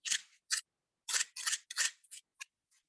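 Scissors cut a shape out of a foam sculpture piece, a series of close, crisp snips in quick irregular bursts.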